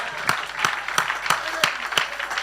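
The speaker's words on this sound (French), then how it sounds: "Applaudissons le Seigneur." Church congregation at an Easter Sunday evening service claps for the Lord in a steady rhythmic beat, about three claps per second, loud and regular over a crowd wash, with voices underneath.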